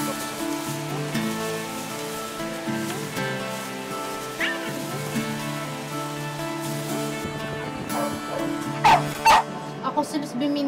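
Dogs at a dog and cat rescue let out a few sharp barks and yips near the end. Before that comes a long stretch of tonal background sound with some talk mixed in.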